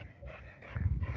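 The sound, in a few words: dog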